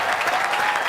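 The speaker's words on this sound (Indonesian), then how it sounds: "Tepuk tangan" A studio audience on an Indonesian TV show claps steadily in a brief, even burst of applause with no talk over it.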